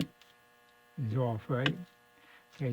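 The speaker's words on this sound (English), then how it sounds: "That noise is just my normal noise on my signal generator." A signal generator feeding a 1970s Deluxe Memory Man echo, chorus and vibrato unit under repair gives off a steady low electrical hum, faint and constant beneath a man's short spoken phrases.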